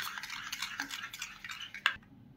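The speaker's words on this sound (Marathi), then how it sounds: "ते छान दही आता छान आपल्याला असं फेटून घ्यायचं आहे" Half a bowl of curd (yogurt) whisked by hand, a quick scraping, clinking stir against the bowl with a brighter clink near the end, close and alone.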